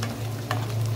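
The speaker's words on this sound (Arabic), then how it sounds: "ونقلب" A brief stir of beef with sliced onions and bell peppers in a pan, with a soft scrape over a steady, low sizzle.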